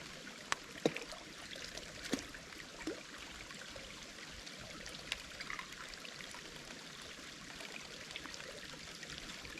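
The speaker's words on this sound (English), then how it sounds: "This is running water." Running stream water trickles and gurgles softly outdoors on a hike, a faint, steady wash broken by a few small splashes and clicks, with no voices.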